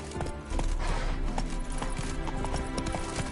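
Roach, a horse in The Witcher 3, gallops in rapid rhythmic clip-clop hoofbeats, steady and close, over a busy game ambience.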